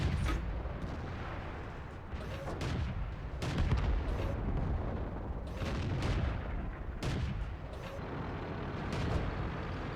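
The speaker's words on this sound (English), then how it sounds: "I'll get a couple of shots on him." Tank cannon shots in World of Tanks, fired from a VK 28.01 light tank, come as several heavy booming blasts spread over ten seconds above a constant low engine rumble, with no voices.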